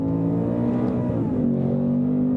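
The engine of a 2024 Ford Mustang Dark Horse with a 10-speed automatic revs hard and holds a loud, steady, high-pitched roar at its 7,500 rpm limit. The pitch sags briefly before rising again, heard from inside the cabin.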